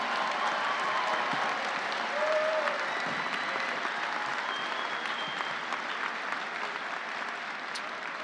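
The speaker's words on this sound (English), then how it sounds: "Let's have a round of applause for our 2022 doctoral and master's degree graduates." A commencement crowd applauds its doctoral and master's graduates with sustained, even clapping that fills the hall at a steady level for several seconds, a faint murmur of voices mixed beneath.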